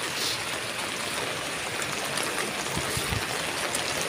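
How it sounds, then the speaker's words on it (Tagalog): Strong floodwater roars steadily and loudly past a market area, a continuous broad wash of flowing current with no voices. "Lakas ng agos ng tubig,"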